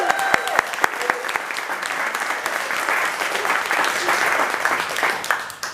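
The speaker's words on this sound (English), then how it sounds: "So I think a big round of applause." Wedding guests clap in steady, sustained applause that fills the room, with a few voices underneath.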